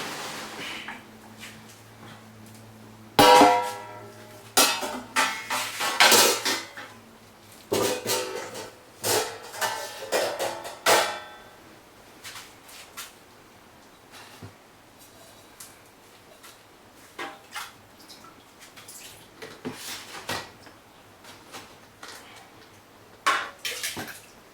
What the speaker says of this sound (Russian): Итак, ничего не забыли, начинаем разливать.